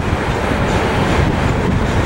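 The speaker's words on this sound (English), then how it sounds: "7119 shoving that freight" A BNSF locomotive shoves a freight train through Cajon Pass with a loud, steady rumble and grinding roar that stays heavy and close for the whole stretch.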